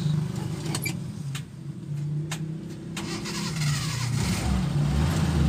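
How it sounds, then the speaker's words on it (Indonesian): A Suzuki Carry Extra from 2000 starts on the first crank and then runs, with a short starter whir and scattered clicks giving way to a steady mid-pitched engine hum that swells slightly toward the end. "Mesin tokcer satu kali starter langsung hidup."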